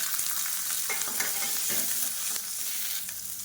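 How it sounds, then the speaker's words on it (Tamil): Pepper, garlic, ginger and small onions splutter steadily in hot oil, a dense continuous crackle with scattered sharper pops, close and alone. "இப்போ பாருங்கள் எல்லாமே பொரிய ஆரம்பிச்சிது"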